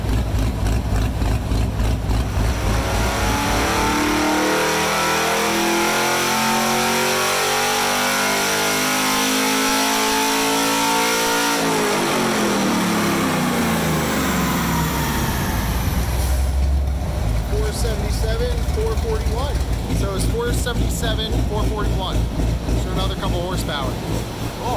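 A twin-turbo C7 Corvette with its exhaust cutouts open revs hard, loud and close, with rising and falling engine sweeps, a deep rumble, and crackling throughout.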